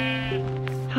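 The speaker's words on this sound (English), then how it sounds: "Hey, sheep." A Minecraft sheep gives one short, nasal, wavering bleat at close range, clear and loud, with a faint game sound near the end.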